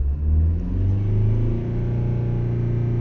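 A car engine revved to around 3500 rpm during VAG diagnostic testing on the first and second cylinders, with the third and fourth not firing, produces a loud, steady, close droning rev with strong low harmonics that climb slightly and then hold.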